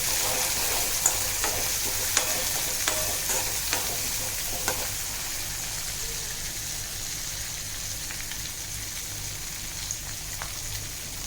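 Finely chopped capsicum and cashews with green chilli paste sizzling and being stirred in a hot pan; a steady close frying hiss with sharp scraping clicks of the spoon, no voices.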